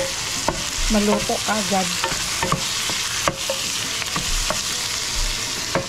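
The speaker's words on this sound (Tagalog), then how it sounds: "Ito naman, gigisa ko na itong kamatis." Tomatoes sauté in a hot pan with a steady sizzle and repeated scraping stirs, as someone speaks briefly close by.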